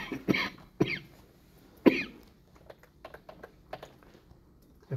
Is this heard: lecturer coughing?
yes